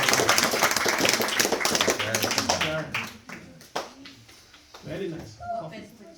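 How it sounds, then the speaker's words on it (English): A burst of clapping from a group fills the first seconds, then thins out as a voice begins speaking. "Please give a round of applause."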